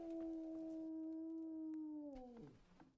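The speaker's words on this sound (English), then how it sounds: "Is that you, howling dog?" A dog in the medieval game Kingdom Come: Deliverance lets out a long, steady, tonal howl that holds its pitch, then bends downward and trails off near the end, loud and alone with no talk over it.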